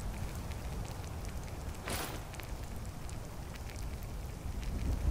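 Steady rain patters softly on surfaces in a video game, a continuous gentle hiss with scattered drops and no voices.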